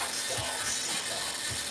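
A pair of 8711 servos drive a model Airwolf helicopter's gun pod extension mechanism, giving a continuous close whirring grind of geared motors.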